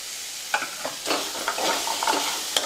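Fresh grated coconut and masala are dry-roasted and stirred in a pan, giving a soft, steady sizzle with scraping clicks from the spoon, close by and with no talking.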